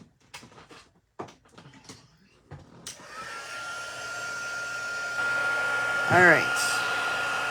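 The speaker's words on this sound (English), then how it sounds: "let's get out our embossing tool" Heat embossing tool switching on and blowing hot air in a steady close whoosh, rising in strength and holding, after some light handling noises and a brief spoken word.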